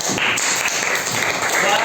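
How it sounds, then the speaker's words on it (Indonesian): Classroom applause during a civics teaching-practice lesson, a steady wash of clapping from a group of students lasting throughout, with speech mixed in underneath. "Tepuk tangan."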